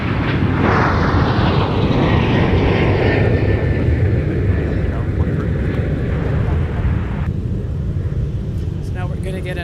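A fixed-wing airliner arrives on runway 30 left at Minneapolis–St. Paul airport, its engine roar loud and steady throughout the clip, a continuous broad rumble from close range while a tower controller's radio voice runs beneath it.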